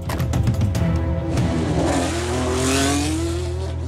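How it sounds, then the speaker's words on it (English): A 2014-regulation Formula One car accelerates hard, its engine note climbing steadily in pitch through a gear as it pulls away, loud and close with no talking. "Can't wait to see what this new car's capable of."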